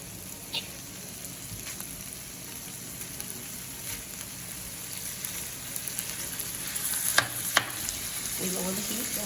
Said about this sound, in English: So now we're just gonna add in our ground beef piece by piece.